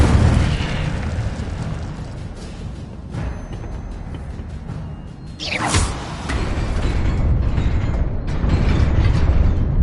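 A fire spell cast in the Hogwarts Legacy video game, heard as a loud whooshing burst midway over a steady rumbling game soundscape, with no talk.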